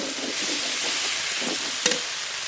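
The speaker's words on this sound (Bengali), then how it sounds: "এবার জল দিয়ে দেবো" Water goes into a pan of sizzling curry with long beans, salt and turmeric, giving a steady loud hiss and bubbling sizzle with a brief sharp spike near the end.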